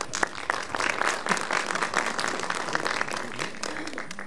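Audience applause at a university commemoration ceremony for the Çanakkale Victory, welcoming a jazz orchestra to the stage; steady, dense clapping from a crowd that fills the whole stretch at moderate loudness.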